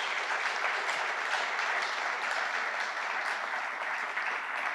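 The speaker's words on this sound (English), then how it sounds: "Let's give them a round of applause." Audience applause at a public announcement event for Denver Air Connection service, a dense, even roar of many hands clapping that stays loud and steady from start to finish, with no talking.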